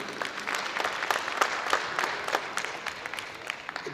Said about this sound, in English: A round of applause for POSB.